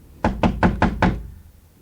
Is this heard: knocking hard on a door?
yes